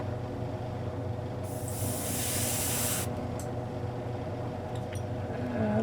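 An aerosol spray can hisses in one steady burst of about a second and a half while paint is applied to a small ceramic horse figurine under repair, over a low, constant background hum.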